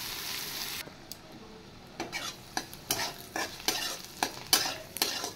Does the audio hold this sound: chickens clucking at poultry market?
no